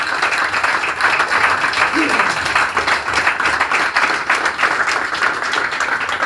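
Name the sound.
audience applause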